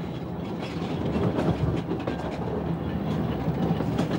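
The small train at Châtelard-Emosson runs along its rails close by, a steady loud rumble with continuous rhythmic wheel clatter throughout.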